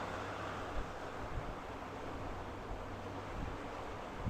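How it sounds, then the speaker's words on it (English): Wind buffeting a microphone outdoors, a steady broad roar with occasional low thumps, close and constant, no talking. "So I'm kind of blocking the wind with my adult body here."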